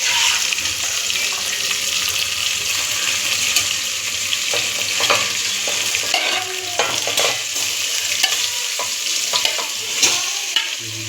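Chicken marinated with chilli powder and oil frying in a hot pan for a Karnataka-style chicken fry, a steady loud sizzle with stirring scrapes and clinks throughout, no voices.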